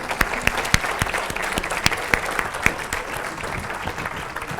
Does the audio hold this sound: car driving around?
no